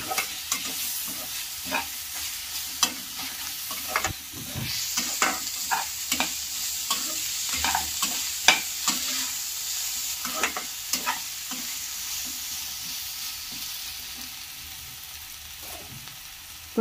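A spoonful of ginger-garlic paste fries in hot oil, sizzling steadily for several seconds while a spatula scrapes and stirs the pan in irregular, close knocks, with no talking.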